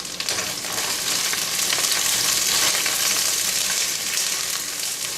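Shrimp shells frying in a pan with onion, garlic and fennel, a loud, dense, continuous sizzle with occasional stirring, close up.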